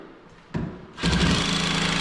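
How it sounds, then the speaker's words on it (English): A power drill drives screws to fix garage cabinets to a wall, with a short whir followed by a steady, close, continuous motor drone. "now I'm going to screw them to the wall"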